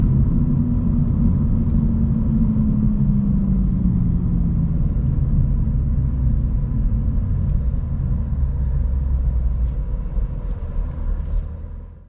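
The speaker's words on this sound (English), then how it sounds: "let's just downshift for the fun of it." A Lexus IS500 V8 engine roars loudly from inside the cabin, its pitch dropping as it downshifts, then rumbling on and fading at the end.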